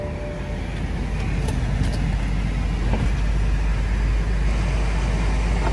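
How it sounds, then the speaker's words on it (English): A 2010 BMW 650i convertible runs just after being started, with a steady low rumble and a broad, constant hum throughout and no talking. "Just started the vehicle."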